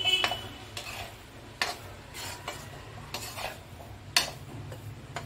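A spoon stirs gram flour as it roasts in a pan, with soft scraping strokes at a steady rhythm, occasional sharper metal knocks against the pan, and a low sizzle underneath.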